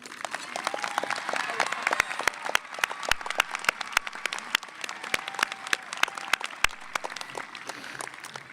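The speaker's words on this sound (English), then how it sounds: "Let's give him and everybody else a round of applause." A graduation audience claps at a high school ceremony in a dense, steady round of applause that lasts the whole stretch, with sharper individual claps standing out near the front.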